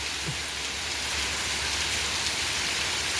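Steady heavy rain that has been falling without letup for half an hour, a dense, even hiss of drops on surfaces that stays constant and close throughout, with no voices.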